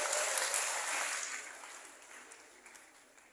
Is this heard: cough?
no